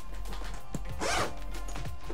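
A zipper is pulled open on a rofmia Daypack V2 M backpack: one quick, close rasp of the teeth separating, with soft handling noises around it and no voices.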